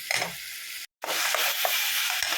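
Tomato paste sautéing in hot oil for an omelette curry, a steady close sizzle with occasional spoon stirring scrapes, broken by a brief gap of silence partway through.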